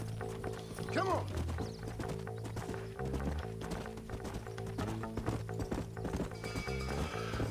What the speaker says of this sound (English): Grumpy ass horse.